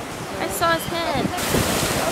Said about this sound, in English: This is a black sand beach now.